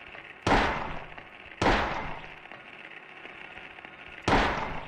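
Three loud, sharp gunshots from the Silent Hill video game, each a sudden broadband crack followed by a slowly fading reverberant tail, spaced irregularly across the stretch with no talking over them.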